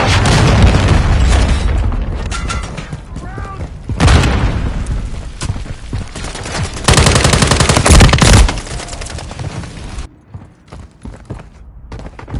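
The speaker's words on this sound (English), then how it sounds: "Hostiles launched a cruise missile." A cruise missile strike in the Modern Warfare 3 multiplayer game, with heavy booming explosions mixed into bursts of rapid machine-gun fire, loud and dense for most of the stretch before dropping to scattered quieter shots at the end.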